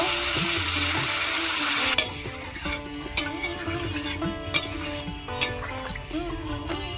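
Potato gravy for aloo kosha sizzles hard in a pan, then water goes in and the loud hiss settles into a quieter simmer, broken by a few sharp clinks of a utensil.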